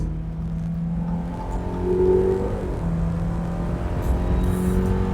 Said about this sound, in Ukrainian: Спробуємо розгін від 0 до сотні